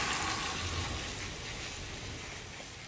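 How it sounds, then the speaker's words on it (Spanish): Rain falls outside on a rainy day as a steady, even hiss of drops that fills the whole moment, with no voices. "está lloviendo afuera"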